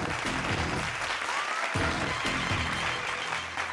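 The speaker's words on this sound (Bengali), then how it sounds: "জোরে একটা হাততালি।" A studio audience on a Bengali family TV game show claps loudly and continuously, a dense, even wash of applause without a break.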